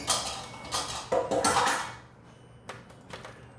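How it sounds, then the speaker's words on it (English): A kitchen strainer is pulled out from among metal pots and utensils while cooking beef enchiladas, giving close clattering bursts of metal knocking that soften into scattered light clinks. "Let me get the strainer."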